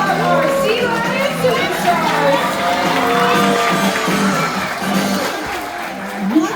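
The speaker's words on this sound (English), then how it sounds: "let's keep that round of applause going for all of our Sea Lion" An audience at an aquarium sea lion show keeps up steady applause and cheering, with crowd noise and children's voices mixed into a continuous, fairly loud wash of clapping.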